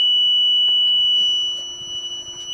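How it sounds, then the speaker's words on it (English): A 3 kHz sine wave test tone played through a Selmer Truvoice TV15 amplifier, a steady piercing high beep held throughout, with faint clicks and handling noise beneath it. "Now I'm going to turn the frequency up to 3 kilohertz."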